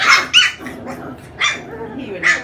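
Goldendoodle puppies growl and bark as they play, giving four sharp yips and barks spread over a low, rumbling growl. The sounds are close and loud.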